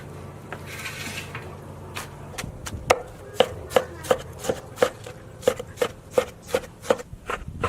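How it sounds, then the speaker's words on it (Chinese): Sauerkraut chopped with a knife on a cutting board, a run of crisp, evenly spaced chops that grow louder and settle into a steady rhythm after a quieter, rustling start, close and with no talking. "现在把酸菜切碎。"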